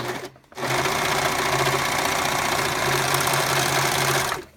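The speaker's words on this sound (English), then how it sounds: "Let's run one through. I'm going to make sure I've got my stitch length on generous 3." A sewing machine stitches through fabric scraps at a stitch length of 3, starting after a brief pause and running as a loud, steady, close mechanical whir with a fast, even rhythm until it stops near the end.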